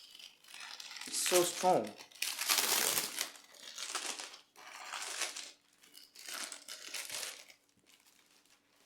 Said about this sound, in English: The polythene bag was not opening easily, so I have to tear it apart